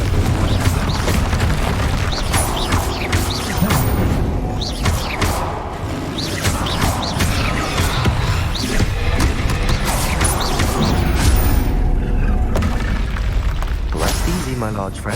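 Confringo fire spell blasts in Hogwarts Legacy, loud booming impacts and crashes layered over busy combat noise and a game score, continuous and dense, with speech mixed in.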